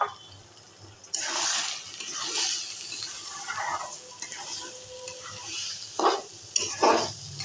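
Rice and lentils for khichuri are fried in a pot with a loud, close sizzle that starts suddenly, then swells and fades as the mix is stirred, with a couple of sharper scraping bursts near the end.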